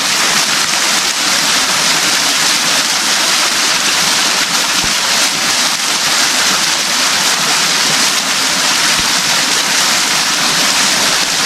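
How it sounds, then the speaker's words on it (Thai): A jungle waterfall in a forest campsite roars in a loud, steady, broadband rush of splashing water that fills the whole scene without pause. "เห็นไหมครับทุกคน มีน้ำตกด้วยนะครับ"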